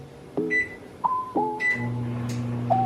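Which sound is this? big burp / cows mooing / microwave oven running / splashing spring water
microwave oven running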